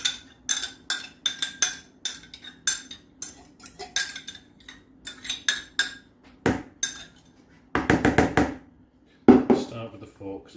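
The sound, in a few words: stirring wet cheese and wild garlic mixture with a fork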